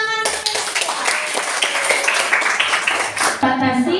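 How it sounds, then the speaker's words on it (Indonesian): A class of Indonesian students claps hands in a classroom, a busy spread of close claps mixed with children's voices and chatter, ending as a single voice speaks alone. "Oke, tepuk tangan."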